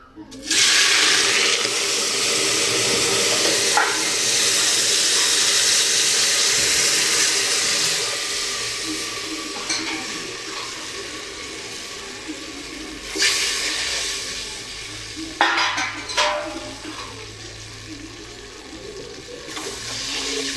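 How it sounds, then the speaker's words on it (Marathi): Cold water poured into hot oil in a pan, a loud violent hissing burst up close that erupts at once, then slowly fades into softer bubbling with a few brief flare-ups. "तेल गरम झालेलं आहे, बघू शकता. आता मी त्याच्यावर पाणी टाकणार आहे."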